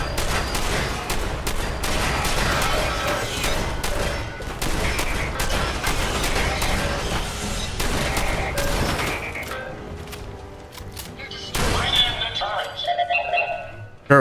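Automated turrets firing in Fallout 4 gameplay, dense rapid bursts of gunfire packed close together for most of the stretch, thinning out near the end with a few sharp impacts and a person's voice reacting over it.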